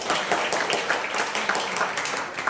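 Audience applause at a de-addiction awareness talk, a soft, steady patter of clapping hands from a small crowd lasting a few seconds, fairly distant and even.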